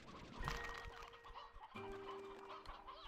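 Sea hens cluck in the video game Slime Rancher 2, a few short clucking calls over a steady background of game ambience and soft tones, moderately faint.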